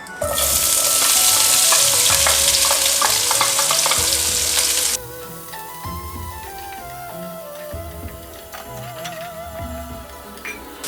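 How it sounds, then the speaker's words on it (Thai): Onions stir-fried in a hot pan, a loud bright sizzle with utensil scrapes for about five seconds, then a softer continuing sizzle with clicks and stirring. "หลังจากนั้นก็เอาหอมใหญ่นะคะ ลงไปผัดให้หอมเลยค่ะ"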